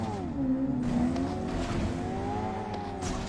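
Car engine in the mobile battle-royale game BGMI, a steady mid-pitched drone with rising and falling tones as the vehicle drives, close and continuous, with no talk over it.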